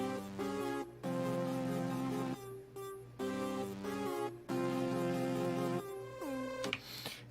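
A synth top line plays over the main melody in a bouncy trap-style beat, stacked sustained tones in steady repeating phrases with brief rhythmic gaps, a rising pitch sweep near the end, no voices.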